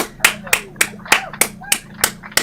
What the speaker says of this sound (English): Another round of applause for Unclean Video.